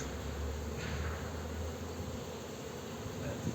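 Honeybees buzz steadily around an open hive during an inspection, a dense, continuous hum that stays close and fairly loud throughout, with no one talking.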